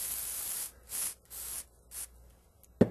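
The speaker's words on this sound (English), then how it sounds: "What we want to do is just spray the lubricant on the threads." Four short hissing bursts of aerosol lubricant sprayed onto threads during shock and strut replacement, close to the microphone and separated by brief pauses, followed by a small click.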